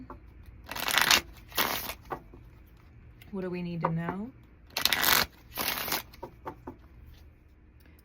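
Tarot cards are shuffled during a card reading, giving loud, close riffling bursts in several separate rounds. A voice speaks between them, and a short tonal vocal sound sits in the middle.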